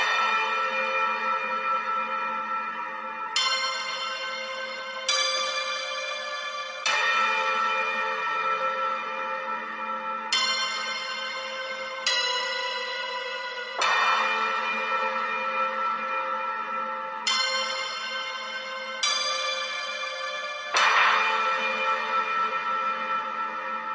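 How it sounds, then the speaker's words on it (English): Resonant tubular bells strike one after another at a slow, uneven pace, each tone ringing and decaying into the next. "nothing was ever heard from him again, except for the sound of tubular bells"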